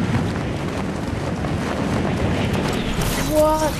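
Steady rushing wind fills a Fortnite glide down toward a house landing, a loud constant roar with a rising whistle near the end.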